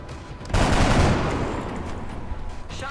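Gunfire erupts in the turn-based tactics game XCOM: Enemy Unknown as a soldier's rifle shot rips out, a loud close burst of rapid reports that tails off into a fading rattle.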